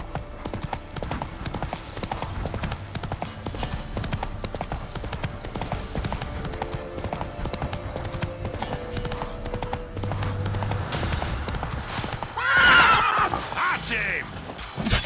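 In The Witcher 3 game, the horse Roach gallops with a rapid, continuous clip-clop of hooves, and a sharp neigh rises near the end; a voice speaks briefly over the hoofbeats.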